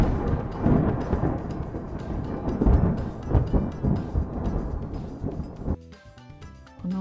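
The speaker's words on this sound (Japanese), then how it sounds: "雷の音がします。" Heavy rolling thunder rumbles loudly and continuously, with deep crashing peaks, then fades into a quieter tail near the end.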